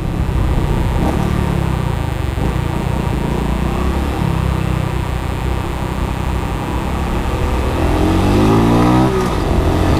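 Close, loud engine of a Honda Pop 110i motorcycle pulling through its gears, the revs climbing, dropping at each shift and then rising again as it speeds up.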